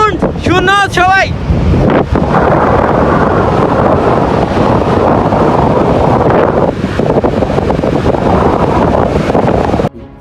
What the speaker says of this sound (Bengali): গাইস, সমুদ্রের সাউন্ড শুনো সবাই।